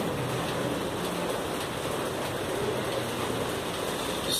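Steady rain hisses evenly with no breaks around the Siloé aerial cable car, a constant broadband wash of falling water at moderate volume.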